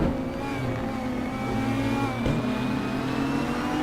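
Simulated GT3 race car on the Silverstone circuit in Assetto Corsa, engine droning loud and steady with whining harmonic tones as it brakes and downshifts, a brief thump partway through.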